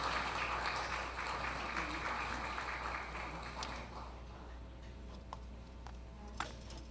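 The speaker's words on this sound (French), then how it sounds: "Je vous demande l'applaudissement." Applause at an anti-corruption day award ceremony, a steady patter of many hands clapping in a large room that gradually thins and fades, with a few isolated claps lingering toward the end.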